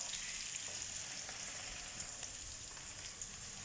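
Onions fry for breakfast in a pan, giving a soft, steady sizzle and crackle with scattered small pops, heard close but quietly and alone.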